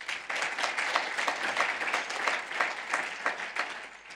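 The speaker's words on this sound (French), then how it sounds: "et on peut l'applaudir" Audience applause at a keynote conference in a full hall, a dense, steady wash of many hands clapping that holds evenly for a few seconds without talk.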